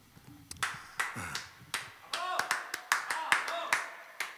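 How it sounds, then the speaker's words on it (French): Scattered audience clapping at a live electric music session in a living room, a few sharp claps building into a loose rhythmic patter, mixed with brief voices talking nearby. "Ils applaudissent aussi."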